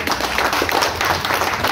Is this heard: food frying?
no